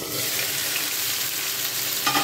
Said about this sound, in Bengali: আলুগুলোকে আমরা এরকম বেশ লাল লাল করে ভাজবো।